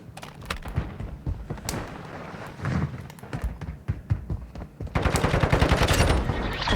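An automated turret fires at enemies in the video game Warzone Mobile, rattling off bursts of gunfire with scattered single shots and thumps that build into a dense, loud volley toward the end.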